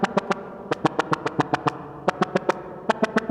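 A choppy, rhythmic synth lead from Harmor built on a saw wave, cut into short, bright, gated stabs in a syncopated pulse over a soft sustained pad, with no voice.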